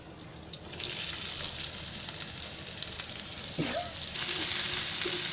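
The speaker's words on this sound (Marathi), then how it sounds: "ते कांदा थोडासा भाजून घ्यायचा" Chopped onion fries in oil in a kadhai, giving a steady close sizzle that swells louder toward the end, with a few light clinks of stirring.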